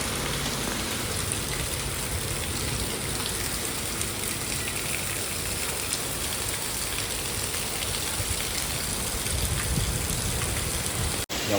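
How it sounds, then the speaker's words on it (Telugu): Steady heavy rain falls without a break in the early evening, a dense, even hiss of drops on surfaces that stays loud and constant, with no voices. "1 hour నుంచి వాన పడుతుంది."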